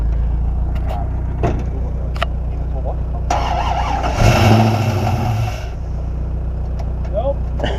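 An LS1 V8 in a VN Commodore drag car cranks and fires up, a brief loud burst settling back into a steady low engine rumble, with people talking nearby.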